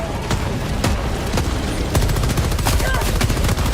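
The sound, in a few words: mortar shell explosions in a video game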